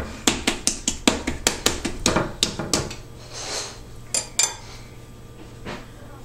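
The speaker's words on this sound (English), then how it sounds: "Use the back of your hand to pound it out." Maple scone dough is patted flat into an 8-inch round with the back of a hand: a quick, even run of sharp, close knocks on the work surface that slows into a few scattered taps.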